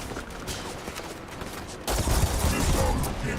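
Gunfire crackles in the game Starfield amid steady background noise, with a denser, louder volley of shots breaking out about halfway through.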